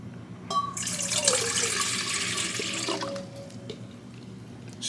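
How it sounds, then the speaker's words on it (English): Warm water pours steadily into a mixing bowl for pizza dough, a close, continuous splashing stream lasting about two and a half seconds before tapering off, with no voices. "grab the warm water, pour it into the mixing bowl"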